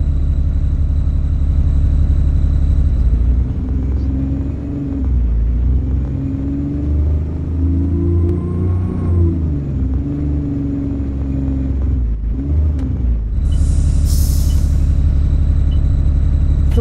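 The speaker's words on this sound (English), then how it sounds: "This bus terminates here." A rail replacement bus on the Thornton Heath route pulls in on Parchmore Road, its loud, close engine rumbling steadily and dipping as it slows, then a sharp hiss of air brakes near the end.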